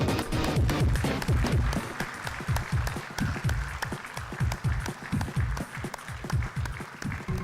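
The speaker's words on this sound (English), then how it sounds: "Can we keep the claps going?" Loud, sustained clapping from an audience at a spiritual retreat's sixth anniversary event, dense and steady through the whole stretch, with some heavier low thumps mixed in.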